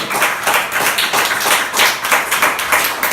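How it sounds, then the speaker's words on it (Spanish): A church congregation claps during a sermon, a rhythmic, evenly pulsing round of many hands in unison, fairly loud and without speech. "Ese aplauso sea para el Señor."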